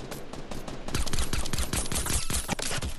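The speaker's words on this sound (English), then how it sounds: "He's getting shot at by another team." Fortnite gunfire: fast volleys of automatic shots crackle close and loud, dense bursts running almost continuously for a few seconds with no voices.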